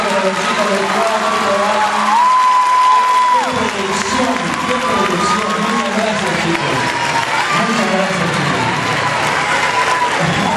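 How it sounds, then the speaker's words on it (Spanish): A loud crowd applauds and cheers for the work team at a Spanish-language event, with whoops rising over continuous clapping; some voices and a sustained tone run underneath. "fuerte el aplauso para los chicos del trabajo"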